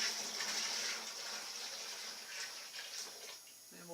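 Hot water is poured into a dye bath for dyeing clothes, a steady splashing gush that continues evenly for a few seconds before tapering off at the end.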